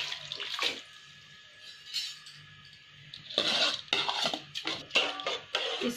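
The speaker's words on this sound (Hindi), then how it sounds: "अब ये साफ पानी है, पानी के साथ ही हम इसको डाल देंगे राइस को।" Soaked rice and its soaking water being poured into a pot of boiling water for sweet zarda rice; close splashing bursts and pouring alternate with metallic pot clinks and stirring.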